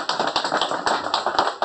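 An audience at a KNX France presentation applauds, a steady patter of clapping hands that stays close and even throughout, with no voices.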